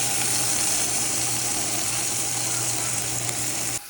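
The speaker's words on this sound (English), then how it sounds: "that sizzling part is the best part of bacon" Bacon frying in a pan gives a loud, steady crackling sizzle, constant and close throughout, with no voices over it.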